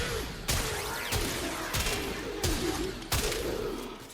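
A Strun Prime shotgun fires in the video game Warframe, six heavy blasts spaced roughly every half to one second over a constant low rumble.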